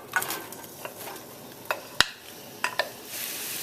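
Onions softening in about three tablespoons of hot oil in a skillet give a faint, continuous sizzle, broken by a few light clinks and scraping stirs of a utensil against the pan.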